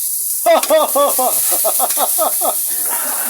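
Onions sizzle in a frying pan during cooking of bitter gourd with chicken, a steady bright hiss that runs beneath a voice laughing and calling out in short bursts.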